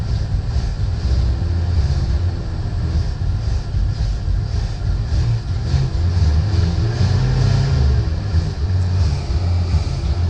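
A 1979 Ford E250 van engine with a poorly running carburetor runs steadily, a dense low rumble that holds at an even level throughout with no voices over it.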